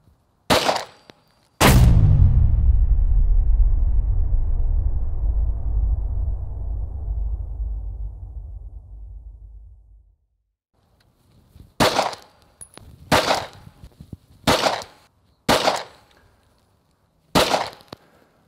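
Taurus Curve pistol firing G2 Research .380 ACP rounds outdoors: one loud shot with a long rolling echo, then a pause and five sharp shots in an irregular string, each with a short tail.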